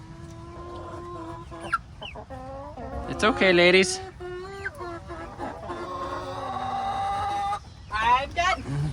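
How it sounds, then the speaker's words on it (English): Hens clucking and squawking close by, with rising calls and a crow-like burst among them, while a person talks gently to them over the birds. "I've got chickens!"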